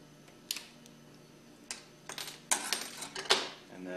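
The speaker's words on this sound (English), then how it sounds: "we'll remove the snap ring that holds in the crankshaft." A snap ring is pried off a diaphragm pump crankshaft, with sharp metallic clicks and scrapes coming in scattered bursts that grow busier toward the end, close up with no talk.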